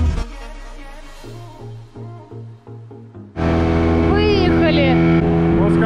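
A river safari boat motor idles with a low hum in Bentota, Sri Lanka, then roars louder and steadier as it revs up, close by, with a voice speaking over it.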